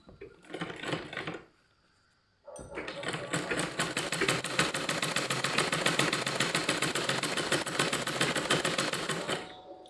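An electric sewing machine stitches a border trim in fast, even mechanical clatter, starting in a short burst, pausing briefly, then running steadily for several seconds close to the listener.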